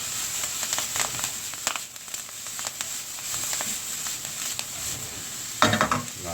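Onions, garlic, parsley and fennel cook in oil in a pan, giving a steady soft sizzle with intermittent stirring scrapes and a louder clatter of utensils near the end; no talking.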